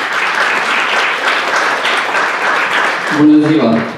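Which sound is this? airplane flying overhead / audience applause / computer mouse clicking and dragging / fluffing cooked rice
audience applause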